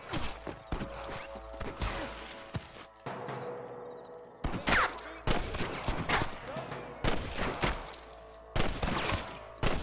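Gunfire in a Red Dead Redemption firefight: rapid bursts of loud, sharp shots crack repeatedly in close succession with a brief lull midway, echoing tails between volleys and occasional voices mixed underneath.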